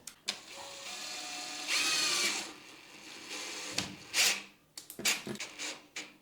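A power drill whirs in a couple of short bursts, mixed with clunks and handling noises nearby.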